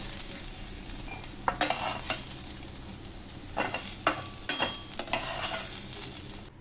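Low sizzling in a pan broken by several bursts of louder spattering and scraping, like stirring frying snake gourd, with no voices.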